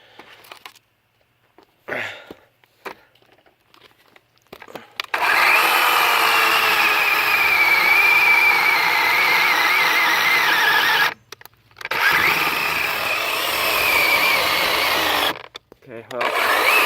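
A DeWalt 20V cordless chainsaw revs up after a few quiet handling noises, running loud and steady with a high whine, cutting out briefly twice before spinning back up.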